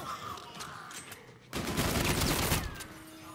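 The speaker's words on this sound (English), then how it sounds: "Shooting them with my pistol" Rapid pistol fire against zombies in Infinite Warfare's zombie mode, a dense burst of loud, near shots running for about a second after a quieter stretch of game noise.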